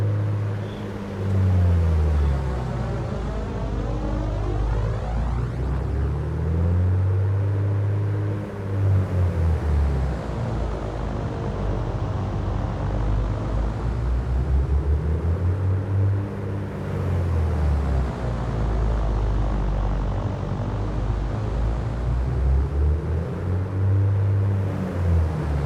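Engine run-up of an A2A PA-60 aircraft in MSFS 2024, a loud, steady droning rumble. Its pitch swings down and up in slow, repeated sweeps as the RPM cycles, heard up close with no talk.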